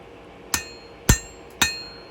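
Hammer strikes on high carbon steel over an anvil during free forging, four sharp ringing metallic blows at an even, unhurried pace, close and loud, with no talk.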